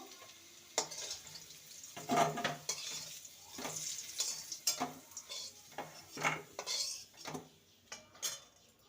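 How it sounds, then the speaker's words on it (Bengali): Fried potato pieces are lifted from a pan with a spatula, giving irregular metallic clinks and scrapes against the pan over a faint, quiet sizzle of oil. "আলুগুলো ভাজা হয়ে গেছে এবার তুলে নেব"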